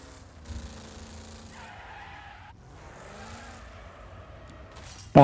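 Tires squeal and skid as a car power-slides in the Wreckfest racing game, the engine droning under wavering, repeated screeches at a moderate level, ending in a sudden loud burst.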